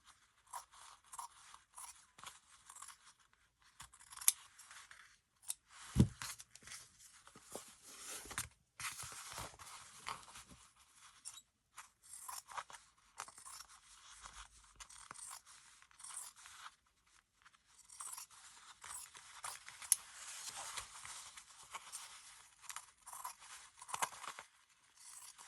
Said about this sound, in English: I'm just going to straighten this up with some scissors a bit.